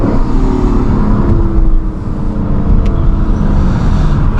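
Lexus LC 500 V8 engine droning loud and steady at close range during a drive, a continuous heavy low rumble with no talking over it.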